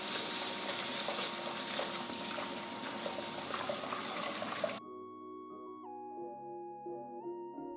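Water gushes and splashes steadily as dry rice is washed in a separate bowl of water, a dense, close rush of liquid that stops abruptly partway through, leaving a quiet tonal hum.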